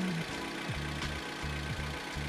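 A 2005 Suzuki APV family car idling smoothly, its engine giving a steady low hum with a regular throbbing pulse, close and continuous with no talk over it.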